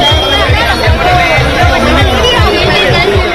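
A dense crowd at Mithun's election road show in Kolkata, a loud, continuous hubbub of many voices close by, with a steady low rhythmic thumping running underneath.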